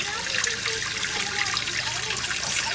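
Fluid trickles steadily out of the opened oil system on a Ford Mustang during an oil filter housing gasket job, a continuous close-up dribble and splash with no talking.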